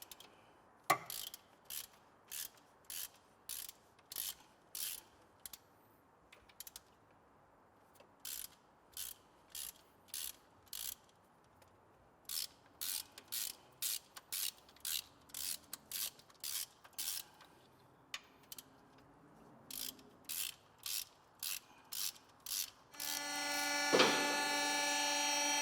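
A hand ratchet working bolts loose, many short rhythmic bursts of clicking repeated in quick runs with brief pauses between them, close and clear, followed by a louder mechanical buzz at the very end.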